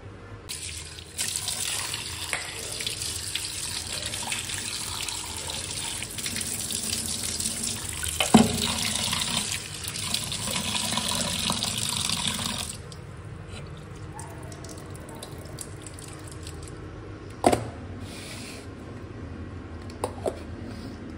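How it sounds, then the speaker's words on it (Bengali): Prawns are rinsed under a running kitchen tap, a steady close rush of water into a sink that eases partway through, followed by quieter drips, splashes and a few sharp clinks. "আরেকবার ধুয়ে নেবো"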